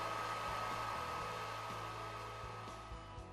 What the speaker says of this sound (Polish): Po jej włączeniu słychać pracujący wentylator głowicy.